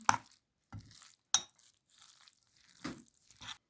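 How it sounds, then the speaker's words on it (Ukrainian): A spoon works a liver sausage mixture with pepper in a bowl, giving several separate soft scraping and clinking strokes with quiet pauses between them. "Все сюди добре розмішуємо."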